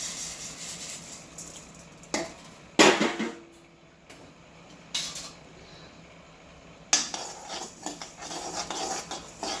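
Cumin, fenugreek and mustard seeds roasting in a pan for lemon pickle, heard as a low steady sizzle broken by several sharp metallic scrapes and clinks of a spoon stirring against the pan.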